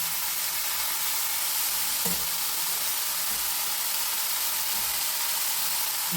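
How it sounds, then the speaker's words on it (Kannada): Fenugreek leaves frying in hot oil give a steady, loud, close sizzle and hiss throughout, with a few faint stirring knocks underneath. "ಮತ್ತು ಮೆಂತ್ಯ ಸೊಪ್ಪನ್ನ ಹಾಕಿ ಸ್ವಲ್ಪ ಈ ರೀತಿ ಎಲ್ಲ ಎಣ್ಣೆ ಮಾಡಿದಾಗ ತುಂಬ ಚೆನ್ನಾಗಿ ಸ್ಮೆಲ್ ಬರುತ್ತೆ"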